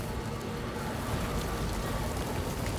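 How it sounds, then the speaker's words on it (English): Steady rain pouring down in the Death Stranding 2 video game, a dense, loud, continuous hiss of falling drops heard alone. "Oh, now it's raining again?"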